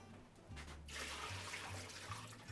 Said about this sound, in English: We're going to drain most of this water off